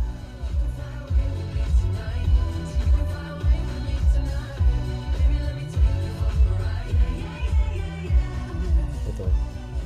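Music plays at fairly high volume through the car audio system inside a quiet Toyota Camry Hybrid cabin, with a steady bass-heavy beat pulsing throughout and no talking.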